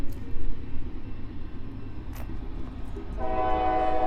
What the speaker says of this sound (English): Damn it, the train's here!